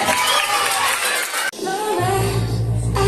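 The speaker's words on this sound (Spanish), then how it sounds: "Un fuerte aplauso para ellas." A school culture-week audience cheers and shouts for a girls' dance performance, a loud crowd din that cuts off abruptly before music with a deep bass beat starts.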